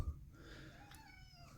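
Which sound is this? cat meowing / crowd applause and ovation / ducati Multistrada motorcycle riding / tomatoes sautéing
cat meowing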